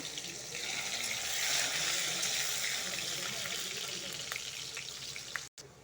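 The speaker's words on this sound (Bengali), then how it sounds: "তেলটা এখন গরম হয়ে গেছে পেঁয়াজটা ঢেলবো পেঁয়াজটা লাল লাল করে ভেজে নিব" Chopped onion sizzles in hot oil in a pan, a steady, dense frying hiss that holds evenly throughout and breaks off briefly near the end, with no voices.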